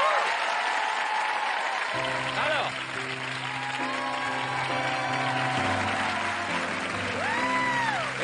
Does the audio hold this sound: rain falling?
no